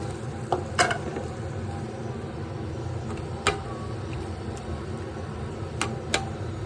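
Fish frying in a pan with water just poured in gives a steady low sizzle and bubbling, broken by a few sharp clinks of a utensil against the pan; no one speaks.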